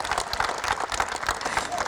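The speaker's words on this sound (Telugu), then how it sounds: "Big round of applause." Applause from an audience at a corporate event, a steady wash of many hands clapping at moderate loudness throughout.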